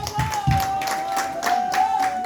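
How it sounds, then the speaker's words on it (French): An audience at a Cameroonian RDPC party meeting gives a round of scattered applause, with a steady high-pitched tone humming throughout. "Une fois de plus applaudissez s'il vous plaît."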